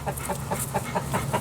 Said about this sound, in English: would you mind sending out that rooster?